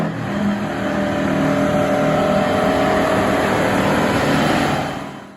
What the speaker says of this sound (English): When a Detroit diesel two-stroke hit full throttle, the mechanical whine could be heard for miles